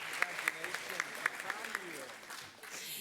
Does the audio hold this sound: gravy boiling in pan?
no